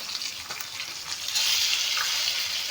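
Fish frying in a pan, a dense continuous sizzle up close that swells louder midway, with faint stirring and no voices.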